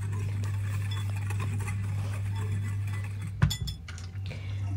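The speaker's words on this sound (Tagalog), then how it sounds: "And then, mix natin." Apple tart filling with cinnamon being mixed in a bowl over a steady low hum. A utensil scrapes and taps softly at first, then a louder cluster of clinks and knocks rings out near the end.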